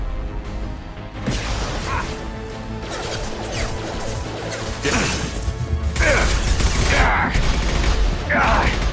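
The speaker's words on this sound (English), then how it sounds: "Firing an impact shot!" Sci-fi combat in Mass Effect 2 during the Archangel mission: heavy mechanical clanks, crashes and whacking impacts pile up alongside loud weapon fire, with bursts of harsher noise later on.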